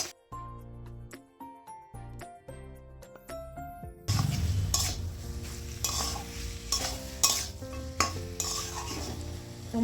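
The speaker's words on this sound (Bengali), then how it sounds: "চিকেনটাকে মশলার সঙ্গে ভালো করে মেশাতে হবে," Chicken is stirred with spices in a pan for a Bengali chicken curry. Soft plucked music plays first, then close, steady scraping and clinking of the spoon against the pan, with a light sizzle underneath.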